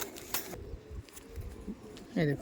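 Kaldum pigeons at a pigeon sale cooing softly in short warbling notes, with a brief louder coo at the end, amid light background noise and faint voices.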